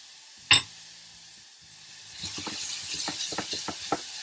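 Onions and garlic fry in a pan after a sharp initial clatter, then a steady soft sizzle with quick scraping ticks from stirring, close and moderately quiet with no talk.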